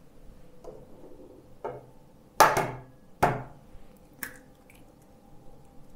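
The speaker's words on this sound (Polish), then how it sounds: "Najpierw wbijamy do miski jajka." Eggs are cracked into a mixing bowl for a Turkish chocolate cake, giving a handful of sharp, close taps and wet plops spaced about a second apart in a quiet kitchen.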